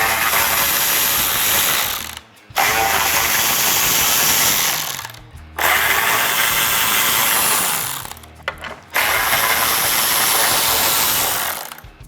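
A ratchet with an 8mm socket backs out bolts on a fog light bracket of a 2018-2022 Ford F-150, giving loud, close, continuous clicking in four long bursts separated by brief pauses.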